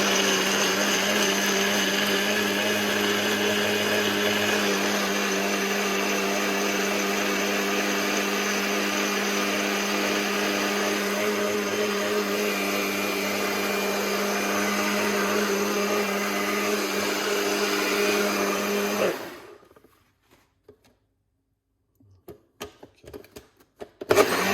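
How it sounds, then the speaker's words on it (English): A blender runs loud and steady, whirring through cashews for a porridge, its motor drone holding for nearly twenty seconds before cutting off, followed by a few faint clicks and knocks. "And we're gonna blend it"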